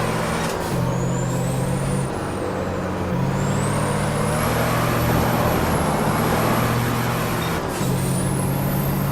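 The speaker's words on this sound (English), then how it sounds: "So these turbo sounds are faked, baked into the transmission and gear shift sound." Video game truck engine drone with a high whistling simulated turbo whine that rises and falls, joined by hissing gear shifts, steady and close.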